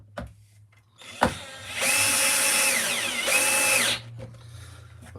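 A power drill whirs up to a high steady whine, dips briefly, then spins again before stopping, with a sharp knock just before it starts.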